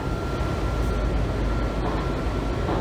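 A Washington Metro Kawasaki 7000-series railcar rumbles steadily along the track during a ride, a continuous low roar with a faint steady whine and no voices.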